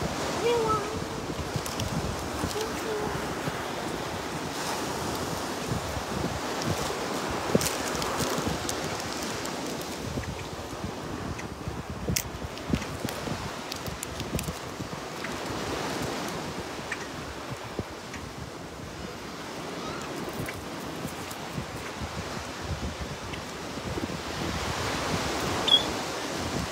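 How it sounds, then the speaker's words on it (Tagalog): Sea waves wash continuously onto a beach shore, a broad steady roar with wind buffeting the microphone, and occasional faint voices beneath. "Dito lang kami sa ngayon. Tabing dagat."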